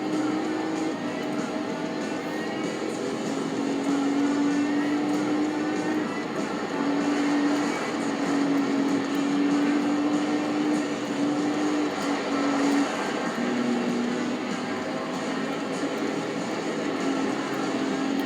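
Engine drone and tire rumble from a rally car in a PS2 racing game, driving off-road, a steady loud hum with tonal whine running throughout.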